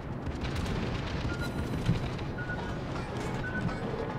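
Warship guns boom in World of Warships with a Tier X German cruiser, the Hindenburg, as a dense rumbling barrage with a couple of sharper blasts standing out, loud and continuous throughout.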